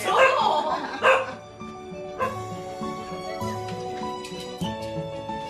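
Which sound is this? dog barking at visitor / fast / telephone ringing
dog barking at visitor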